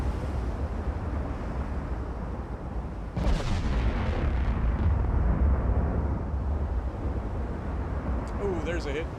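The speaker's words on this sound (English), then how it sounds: "You gotta love the sound of the big guns" Warship big guns firing and shells hitting in Ultimate Admiral Dreadnoughts, a heavy low rumble of naval gunfire with a sharp blast about three seconds in, continuing under intermittent talk.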